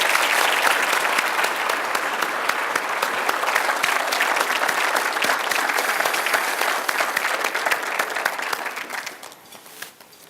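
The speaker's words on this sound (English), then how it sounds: "let's give them all one more round of applause," A large audience at a city update event applauds the City Council and employees in a loud, dense, sustained round of clapping that holds steady for about nine seconds before tapering off quickly.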